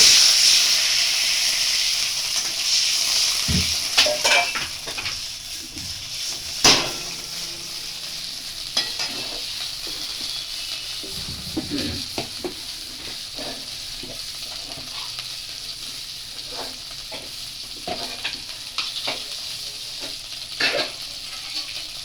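Fish curry with bitter gourd leaves hisses and steams loudly in a pan right after water is added, the bubbling sizzle gradually settling while scattered spoon clicks and stirring knocks recur throughout.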